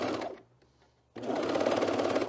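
A sewing machine tacks cat ears onto a hood, running in a loud close burst, pausing for about half a second, then whirring steadily again.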